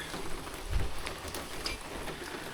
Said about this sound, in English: it's been on and off raining all day long